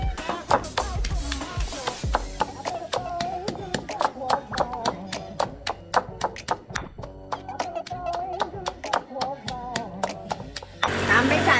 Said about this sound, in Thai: ขอปั่นหน่อย ปั่นแล้วมันละเอียดหน่อย